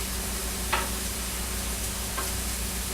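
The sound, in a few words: mushrooms and garlic sizzling in a pan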